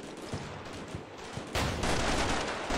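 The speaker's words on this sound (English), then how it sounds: "Getting in a bit of a firefight going." Scattered gunshots crack in a modern military wargame firefight in urban concrete terrain, a few distant pops at first, then a sustained burst of heavy gunfire with no talking.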